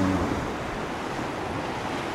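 Ocean waves washing onto a sea shore make a steady, full rushing surf with some wind blowing across it, continuous and close, with no one speaking.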